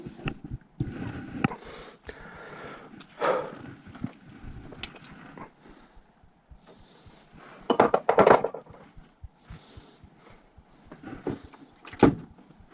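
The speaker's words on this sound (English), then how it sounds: "Second wrench is about to come." A metal wrench is lifted and worked on a gas boiler that is giving no heat: scattered clanks and scrapes of tool on metal, louder bursts near the middle and the end, with no talk.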